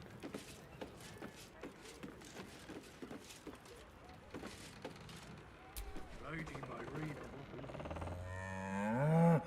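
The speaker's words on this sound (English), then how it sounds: "And now she sounds like a cow." A cow moos repeatedly in Baldur's Gate 3, the lowing mixed with game sounds and footsteps before a louder, drawn-out moo rises at the end.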